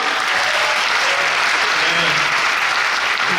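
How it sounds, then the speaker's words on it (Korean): Audience applause fills a theater after a winner is announced at a musical's closing-performance curtain-call greeting, steady, dense and loud throughout with no break. "박수!"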